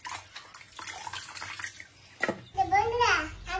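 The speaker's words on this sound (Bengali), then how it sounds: "বেশি জলে 2 ধোয়া দিয়ে দিলে হয়ে যাবে" Mustard greens are washed in a basin of water, with splashing and sloshing that grows louder toward the end. Voices talk over the water sounds.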